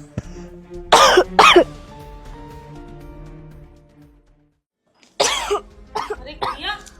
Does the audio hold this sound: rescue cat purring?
no